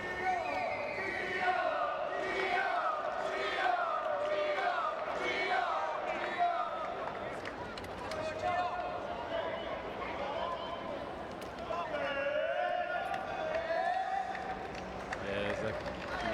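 Fans cheer at a Paralympic wheelchair tennis match in Rio, a steady roar of crowd voices with rhythmic shouts and chanting rising and falling across the whole stretch, with a commentator talking over it.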